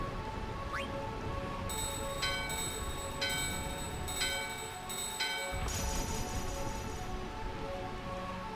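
A door bell in Final Fantasy IX rings several times in a quick sequence of bright metallic tones, heard faintly over steady rain and ambient game background, with no one speaking.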